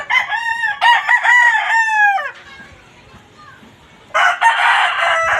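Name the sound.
fighting rooster crowing on a backyard farm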